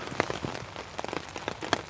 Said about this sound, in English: but still pretty persistent rain